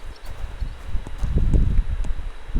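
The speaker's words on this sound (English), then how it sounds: "You mean this horse?" Horse hooves clip-clopping on the ground in the medieval video game Kingdom Come: Deliverance 2, a cluster of soft, close steps mixed with faint rustling, with no talk.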